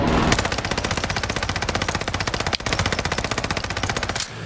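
Rapid automatic gunfire from the video game Call of Duty: Warzone in Operation Monarch mode, a loud, steady stream of shots that runs almost nonstop, with one brief break, before cutting off.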